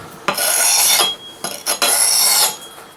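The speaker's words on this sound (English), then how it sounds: "Now let's give it a quick sharpen on the stone." A Cold Steel Norse Hawk axe is sharpened on a stone in two long, harsh rasping strokes with a short scrape between, close and loud with no voices.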